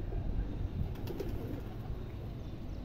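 Rooftop pigeons, including some with clipped wings, give soft, low coos against a steady broadband hum of outdoor noise that stays level throughout.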